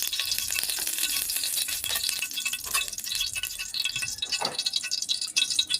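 Pork marinade and a little cooking oil frying in a hot pan give a steady, close crackling sizzle with scattered pops and light stirring rattles.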